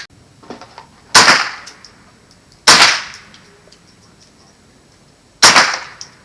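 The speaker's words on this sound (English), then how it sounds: "Walther G22 with a silencer." Three sharp suppressed gunshots from a Walther G22 rifle fitted with a silencer, fired singly at uneven intervals, each a loud close crack with a short decaying tail, with quiet between shots.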